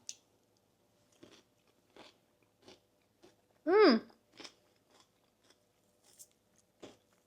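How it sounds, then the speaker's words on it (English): Crunchy celery dipped in buffalo ranch being bitten and chewed up close, a string of sharp wet crunches at an uneven pace with a brief voiced sound partway through. "Let's try the celery with it first."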